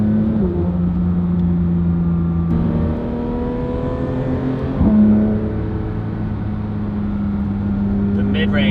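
A Porsche 992 GT3 RS with titanium valved exhaust and stock manifold holds a steady, loud high-revving drone with a brief blip of revs midway, heard close and continuous.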